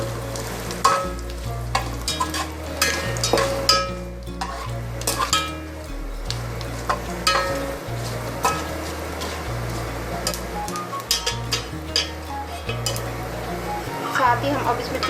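Whole garam masala spices fry in hot oil for a mutton biryani, a lively close sizzle with frequent stirring scrapes and clinks of a utensil against the pot, and a voice speaking intermittently.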